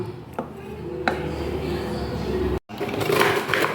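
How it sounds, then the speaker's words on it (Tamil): Mango being mashed with a wooden masher, dull repeated thumps and squelchy pounding at close range in a kitchen, uneven in rhythm, with a person talking over it. "இந்த மத்து குழவையெல்லாம் நல்லா நசிச்சுக்கலாம் ஃப்ரெண்ட்ஸ் நல்லா நச்சிக்கலாம்"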